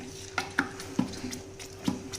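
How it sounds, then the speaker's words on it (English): Paneer butter masala spitting and splattering in a very hot pan on a hot plate, a few sharp pops and crackles over a low steady sizzle, close and fairly quiet. "the heat has transferred to the pan and the splattering has begun"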